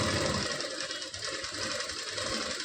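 A sewing machine fitted with a single foot stitches around a blouse neckline. It gives a steady, close mechanical whir with a faint rhythmic knocking underneath, running continuously with no talking.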